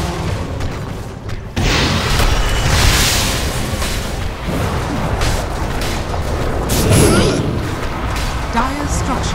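Dota 2 middle tower under attack: a dense, loud barrage of booming impacts and explosions rumbles on without a break after a sudden onset, with game voice lines and chatter over it.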